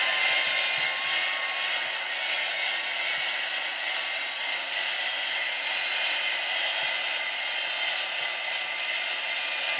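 A Boeing 787 airliner engine taxiing in a flight simulator game drones in a steady, even hum from start to finish, with no speech.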